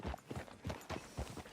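Horse hooves clip-clopping in Red Dead Redemption 2, a quiet, even rhythm of about eight distinct hoof strikes at a walking pace, heard alone without talk.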